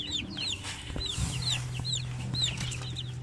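Shamo aseel chicks in a coop make repeated high, thin peeping chirps, close and fairly steady, over a low hum and a brief thump, with no talking.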